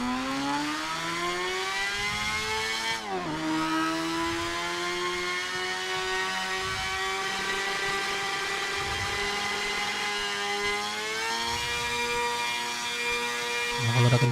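A motorcycle engine revs steadily and loudly, a continuous whining drone whose pitch dips sharply once, then climbs again toward the end, with no voices over it.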